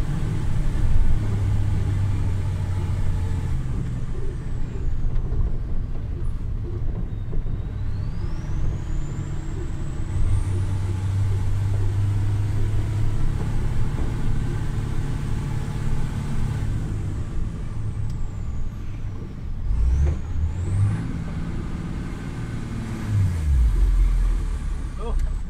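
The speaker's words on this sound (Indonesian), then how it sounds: "Naik dengan gigi 2 mendaki." A Tata 3338 dump truck climbing a winding uphill road in second gear, its loud diesel engine droning steadily close by with gear-linked pitch shifts and a brief hiss, voices talking over it.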